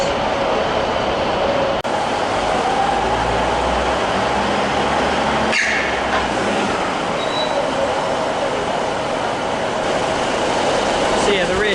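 A diesel-electric passenger train on the Blackpool North route near the Ordsall Chord in Manchester, a loud, steady engine drone and rolling rail noise passing close by, with brief clunks.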